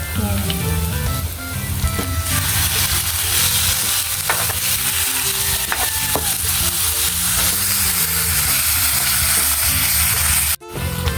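Ground meat and onions sizzle loudly and steadily in a hot pan while stirred, a dense continuous frying hiss with small clinks and a brief dropout near the end.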